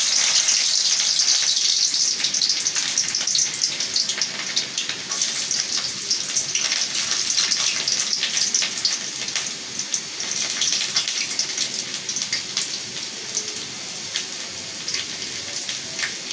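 Chopped garlic sizzles and crackles vigorously in hot oil in a pan, a loud, continuous frying hiss that stays steady throughout with no talking.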